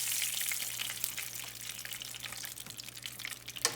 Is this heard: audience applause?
no